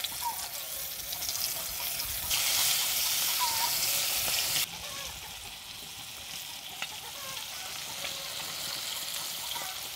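Floured shrimp fry in hot oil in a pan, a close, loud, continuous sizzle and crackle that swells sharply midway and then settles to a steady hiss.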